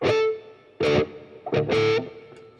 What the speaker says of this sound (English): the sound, the impact of the reverb is this